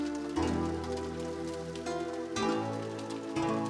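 Steady rain falling in the Spice & Wolf: My Year With Holo game, a soft continuous patter mixed under a sustained musical score.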